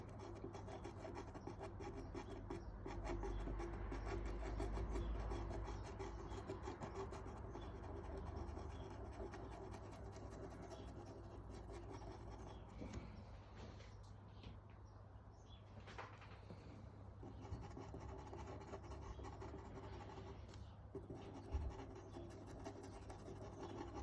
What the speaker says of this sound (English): Rubbing some of that into that pink there